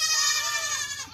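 Several baby goats on a farm during kidding season bleat loudly and continuously in overlapping, high, wavering cries close to the listener.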